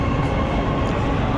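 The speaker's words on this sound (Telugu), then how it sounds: "ట్రైన్ చూడండి ఎంత ఫాస్ట్గా వెళ్తుంది." A metro train rushes past at a station in Saudi Arabia, producing a loud, continuous roar of wheels and motion close by, steady throughout the brief moment.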